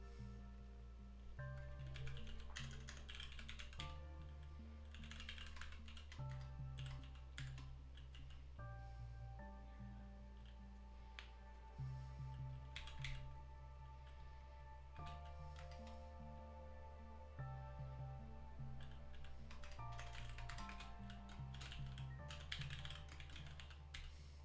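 Someone typing code on a computer keyboard, with steady bursts of close key clicks separated by short pauses, over a constant low hum.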